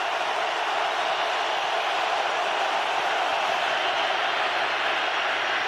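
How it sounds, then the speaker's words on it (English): Stadium crowd roaring at an NFL football game between the Green Bay Packers and San Francisco 49ers, a steady broadband wash of distant massed voices holding at constant loudness throughout. "Crowd roaring."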